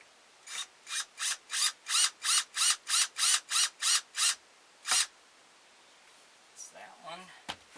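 Screws being driven by hand into wood while building a carved wooden ventriloquist dummy figure: a dozen evenly paced rasping ratchet strokes, then one more after a pause, followed by faint handling noises.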